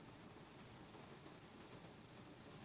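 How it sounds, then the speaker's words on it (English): Steady, even hiss of rain falling outdoors, a constant wash of noise with no voices over it. "Yep, there comes the rain."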